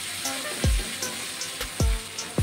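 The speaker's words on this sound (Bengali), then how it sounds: "আমি পাওটাকে ভেজে নেব। দিয়ে দেবো একটু বাটার।" Pav bread fries in butter on a hot tawa with a steady, gentle sizzle, broken by a few dull knocks of a utensil against the pan.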